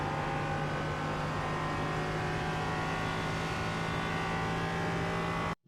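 A Ligier JS320 LMP3 race car in iRacing at Spa-Francorchamps, pulling hard in third gear with a loud, steady engine drone and strong harmonics. The sound holds at full power throughout and then cuts off abruptly at the end.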